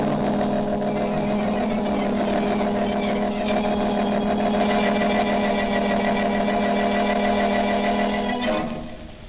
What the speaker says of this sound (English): the Blue Beetle sped on his way to the home of Charles Cochran